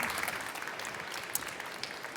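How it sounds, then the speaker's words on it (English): Audience applause at a start-up award ceremony, a continuous patter of many hands clapping at moderate level, fairly close and unbroken by speech. "Big applause for Stephanie."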